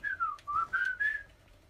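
A person whistles a short wavering tune of five or six rising and falling notes, close and clear over faint game background, with no talking.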